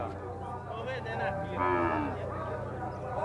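A cow at a cattle fair in Campina Grande, Paraíba, gives a drawn-out moo amid steady crowd and market noise, with people talking nearby.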